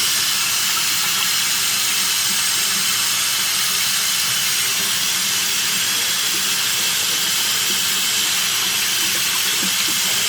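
Water pouring from a tap into a sink over a color-changing chameleon action figure, a steady broadband rushing hiss that stays constant and close throughout with no talk.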